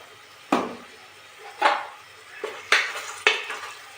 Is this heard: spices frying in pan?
yes